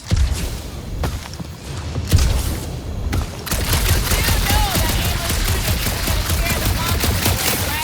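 Gunfire rattles in the Marvel's Guardians of the Galaxy video game, a few sharp shots early followed by sustained rapid automatic fire and dense action noise close up.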